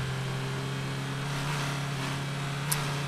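Steady hum of a car engine in the driving game Drive Beyond Horizons, a constant low drone held at even loudness for a few seconds, with a brief high click near the end.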